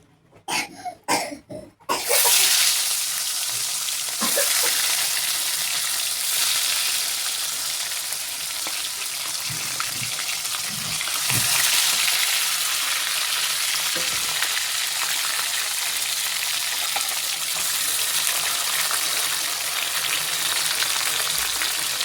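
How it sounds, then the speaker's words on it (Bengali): Masala-coated fish frying in hot oil for a Bengali potato and fish curry, a loud, dense, continuous sizzle close by, preceded by a few short bumps and clatters at the start. "তেলটা অলরেডি আমার গরম হয়ে গেছে, এতে মাছটা ভাজি করে নেব।"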